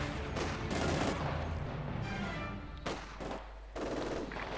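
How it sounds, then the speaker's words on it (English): Machine gun bunker firing in a real-time strategy video game, a dense continuous fusillade of rapid gunfire with overlapping bursts and explosions, loud and sustained throughout with no talking. "Getting suppressed there by the machine gun bunker and forced away"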